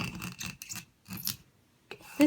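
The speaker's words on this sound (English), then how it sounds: "scrape all of these off, and then scrape them off my cabinet too" A scraping tool rasps rhinestones off a crafting countertop in a basement, three or four short gritty scrapes separated by brief pauses, close and fairly quiet.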